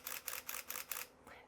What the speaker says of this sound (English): one of my favorite features about this camera is the shutter sound